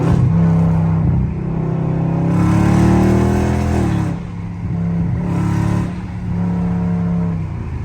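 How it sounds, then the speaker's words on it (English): A loud, deep Dodge Charger Scat Pack engine rumbles nearby, its pitch climbing and dropping as it revs and eases off in traffic. "the car do sound good with the window all the way down"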